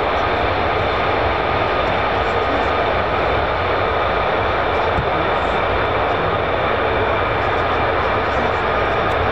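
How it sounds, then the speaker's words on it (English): A jet fighter roars down the runway on takeoff with its afterburner, a loud, steady, broadband engine blast that holds unbroken throughout, heard alone without voices. "You'll also notice the afterburner being switched off."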